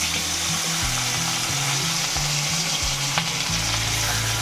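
Pieces of bhangor fish paste sizzle steadily in hot oil in a home kitchen pan, a continuous loud crackling hiss with a low rhythmic hum underneath and no voices.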